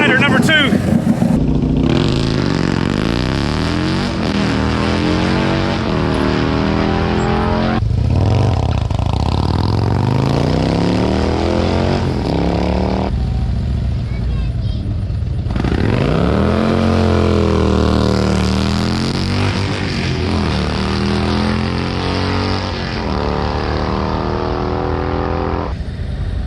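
Drag racing motorcycles at Music City Raceway scream down the strip, loud engines climbing through gears in long rising sweeps, one rider lifting into a wheelie, with an announcer talking over the roar.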